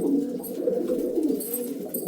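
Pigeons cooing in low, soft, rolling calls, repeated steadily and close by, with no talking.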